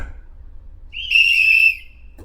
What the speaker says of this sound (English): you blow a whistle and you put the palm up like that